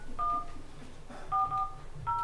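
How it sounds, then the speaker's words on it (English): Telephone keypad tones dial out a call in a meeting room, with three short bursts of paired steady beeps separated by pauses, clear and fairly close against a quiet background. "I just realized I didn't call Ron Young."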